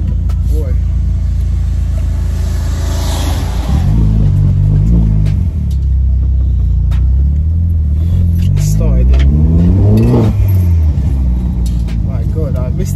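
A Vauxhall Corsa VXR hatchback engine idles with a deep rumble, then is blipped twice in swelling revs that rise and fall, loud and close, while someone speaks briefly.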